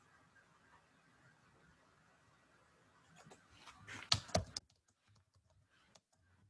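Keyboard typing at a computer, starting faint and rising into a brief louder burst of keystrokes near the middle before fading back to quiet.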